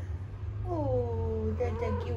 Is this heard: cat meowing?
yes